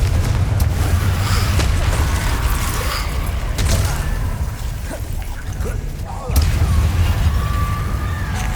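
Explosive spell blasts from a magic-themed video game ring out as loud booming bursts over a dense, rumbling mix, with a heavy impact around the six-second mark; voices speak over the game audio.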